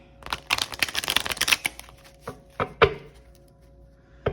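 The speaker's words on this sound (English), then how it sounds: "I'm gonna shuffle one more time." A deck of reading cards is shuffled in rapid riffling bursts, then comes to rest with a few sharper taps and slaps of the stack, close and clear with no talking.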